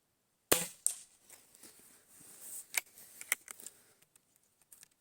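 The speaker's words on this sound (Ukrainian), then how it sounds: "Так, це у нас 4 постріли було." A sharp, close shot from a Shanghai B1-1 air rifle firing 0.45 g pellets cracks out, followed by a second snap and scattered lighter clicks and mechanical handling noises in a quiet setting.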